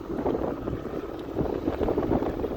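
Wind rushes and buffets the microphone while riding a Mondial E-Mon Rigby electric scooter through a village: a low, continuous rumbling blow that swells and eases over a few seconds.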